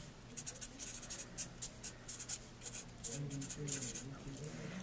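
Pen or marker writing out a related-rates calculus problem, a steady run of quiet scratchy strokes in short bursts, with a voice murmuring faintly underneath toward the end.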